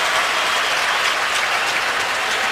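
A stadium crowd at an NFL game between the Pittsburgh Steelers and the Raiders applauds an injured football player, a steady, dense roar of clapping and cheering that holds at an even level throughout.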